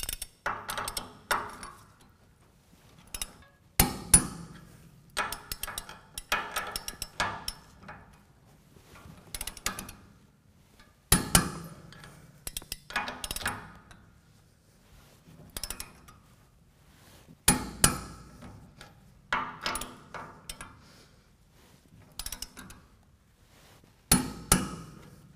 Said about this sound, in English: we're gonna go ahead and bring the lug nuts to 80 foot-pounds